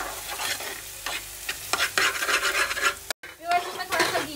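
A spoon stirs a keema-like dish in a hot pan, with repeated loud scraping strokes over a steady sizzle and a brief break near the end. Nobody speaks.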